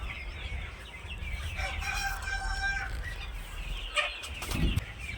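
A rooster crows once from a chicken shed beside a lemon orchard in Pune district, Maharashtra, with a drawn-out call at moderate distance over steady outdoor background noise, followed by faint clucking and wing flaps.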